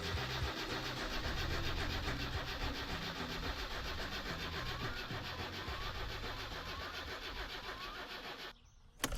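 A car engine in the game My Summer Car cranks over and over without catching, a long steady whirring starter drone that runs for several seconds before cutting off abruptly near the end.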